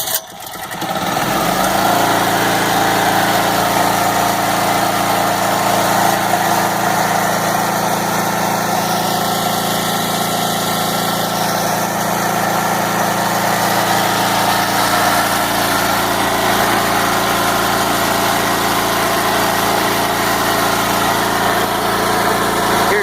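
A Champion tri-fuel generator engine catches after a brief start and settles into a loud, steady high-pitched run with constant buzzing vibration, close by and alone with no talk over it.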